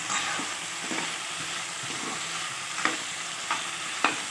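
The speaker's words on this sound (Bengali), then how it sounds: "ছাড়িয়ে রাখা মটরশুঁটিটাও দিয়ে দিলাম, দিয়ে একসঙ্গে নেড়ে চেড়ে নেব" Peas being stirred into khichuri in a pot, a steady soft sizzle under a few spaced scraping strokes of a spoon, the last ones sharper, with no talking.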